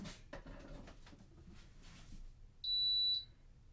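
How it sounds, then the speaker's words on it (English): A Kalorik Maxx air fryer oven gives a single clear, steady electronic beep when plugged into an outlet, sounding alone after a stretch of quiet room noise. "once it's connected to an outlet, you'll hear it beep once"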